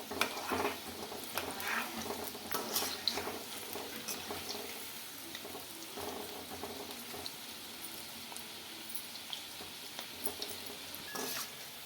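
Chicken pieces fry on medium flame until crispy for chilli chicken, a long, steady sizzle and crackle with occasional turning and scraping noises, fairly quiet and close, no talk.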